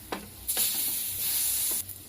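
Bread slices dipped in batter fry on a hot tawa for bread pakoda, giving a steady, close sizzle that swells into louder bursts of crackling as pieces are turned, with no talking.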